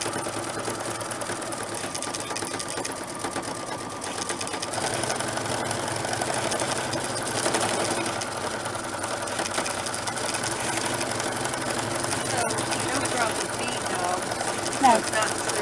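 A sewing machine with a roller foot stitches a stipple pattern in a steady, continuous mechanical whir that runs the whole time at an even level, with a person talking underneath.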